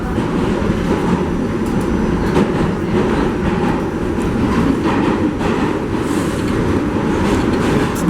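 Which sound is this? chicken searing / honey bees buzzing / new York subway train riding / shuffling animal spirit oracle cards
new York subway train riding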